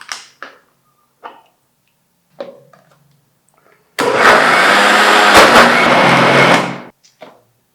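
An electric grinder whirring loudly as it grinds medhu vadai batter to a buttery texture, running for about three seconds between scattered nearby knocks and clatter.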